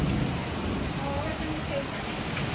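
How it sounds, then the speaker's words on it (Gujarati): Heavy monsoon rain pours down in a dense, unbroken hiss that stays loud and steady throughout, with a faint low rumble underneath. "જોરદાર વરસાદ ચાલુ થઈ ગયો છે"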